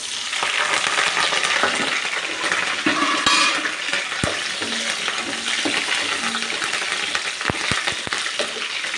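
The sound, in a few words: tempering spices, curry leaves, onion, chillies sizzling in oil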